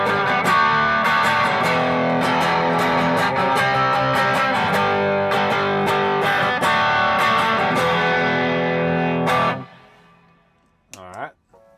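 Electric guitar through a Mosky Obsessive overdrive pedal, gain at 9 o'clock, with overdriven, gritty tone playing chords and riffs for several seconds, then cutting off, followed by a short bend-like squeal.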